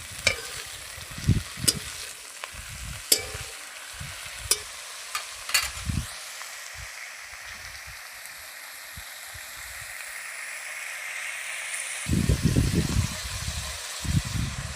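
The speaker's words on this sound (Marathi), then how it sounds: "स्वच्छ धुवून बारीक चिरलेली चिगळ्याची भाजी आता आपण कढईमध्ये टाकू." Finely chopped chigala greens with garlic greens and spices are stirred in a hot wok, giving a soft steady sizzle broken by sharp scraping and clanking strokes of a spatula, with a louder burst of frying near the end.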